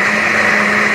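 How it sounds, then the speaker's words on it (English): Kitchen blender running continuously on its blend setting to puree ingredients for a prickly cactus sandwich, a steady close whirring drone with no pauses or voices. "I'm putting it on blend. That's just blending it all together."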